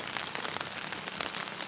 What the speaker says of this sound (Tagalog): Yung ulan, saktong ulan lang. Hindi naman siya malakas.